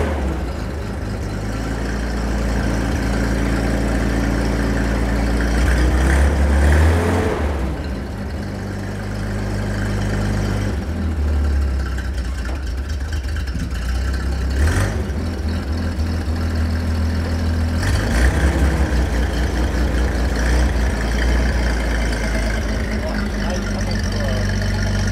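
A six-cylinder car engine idles and runs steadily close by, its low exhaust rumble rising briefly twice as it revs, continuous throughout.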